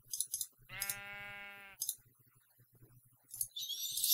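Sheep in Minecraft bleating: one drawn-out, wavering bleat near the middle, with faint game clicks and short bright noises before and after it.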